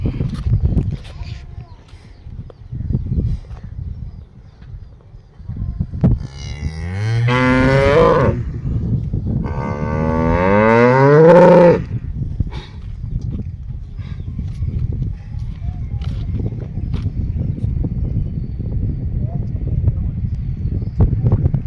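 Dairy farm cows bought as heavy milkers give two long, loud moos close by, with people talking and shuffling and knocking noises heard before and after.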